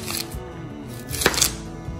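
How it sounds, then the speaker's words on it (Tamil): Broad beans being cut into pieces with a knife on a board, a few crisp chopping knocks with a louder cluster near the end, close and fairly quiet, without speech. "எவ்வளோ முடியுமோ உங்களால் முடிஞ்ச அளவுக்கு ஒரே சைஸாக கட் பண்ணுங்கள்"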